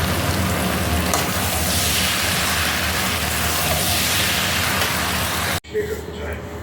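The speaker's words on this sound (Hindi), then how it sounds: "तो अभी तो मैं मिक्स ही कर रही हूँ।" Paneer chilli stirred and mixed in a hot pan gives a steady, close hiss of frying with scraping stir sounds, running continuously before cutting off abruptly near the end.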